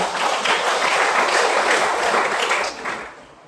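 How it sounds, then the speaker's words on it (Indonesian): Church congregation applauding warmly, a dense steady clatter of many hands that tapers off near the end. "Tepuk tangan dulu Bapak Ibu"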